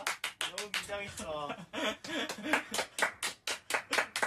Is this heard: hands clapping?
yes